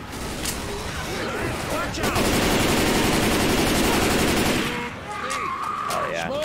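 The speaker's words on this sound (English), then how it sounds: "Combat shotgun for the win." Rapid repeated combat shotgun blasts in Left 4 Dead 2, loud and dense through the middle as the firing builds into a continuous barrage, with people talking over the action.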